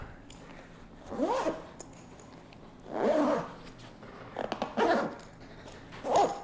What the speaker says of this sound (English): So we can easily zip this up now.